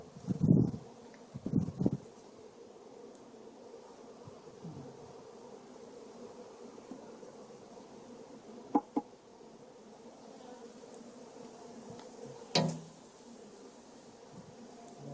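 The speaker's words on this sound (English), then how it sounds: "All the bees, I see a lot of bees coming." Bees hum in a steady, soft drone around a hive, with a few brief louder buzzes as individual insects fly close.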